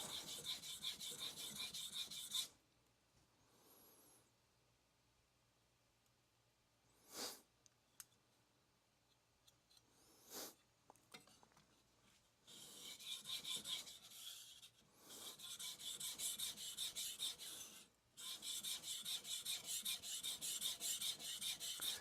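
A knife is sharpened on an inexpensive Japanese whetstone, giving long, raspy scraping strokes in bursts, close and fairly quiet, separated by short pauses and a few sharp clicks.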